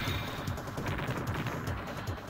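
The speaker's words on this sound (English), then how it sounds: "This is this ship's bomb." A ship's screen-clearing bomb in the Neo Geo shoot-'em-up Aero Fighters 2 gives a dense, continuous roar of rumbling explosions and crackling blasts, held steady and loud throughout.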